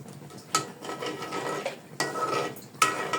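A spoon stirs mutton haleem in a pot on the stove, three distinct scraping strokes against the pot with a soft bubbling sizzle between them, close and fairly quiet, no talk.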